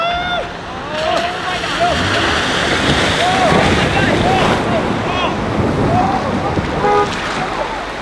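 A Jeep plows through a deep river crossing off-road, water surging loudly up over the vehicle in a sustained rushing splash, with excited voices shouting over it.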